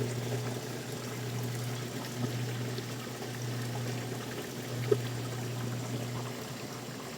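Water drains steadily from a mud crab condo system, a continuous low rushing flow with a constant hum beneath it, fairly faint and unbroken apart from one small knock.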